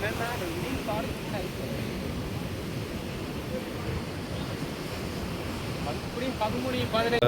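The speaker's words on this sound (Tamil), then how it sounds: "காற்று." Steady rushing wind over the open sea off Jaffna, a continuous low roar with faint wave wash and occasional distant voices beneath.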